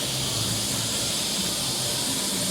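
An airbrush spraying paint onto a skull, filling in dark areas around the mouth and nose, giving a continuous close hiss of air throughout with no voices.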